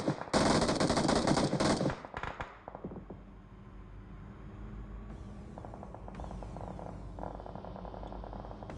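Gunfire in a battle royale video game: a loud, rapid machine-gun burst at first, then quieter scattered shots and mechanical clatter under a steady game-ambience drone, no voices.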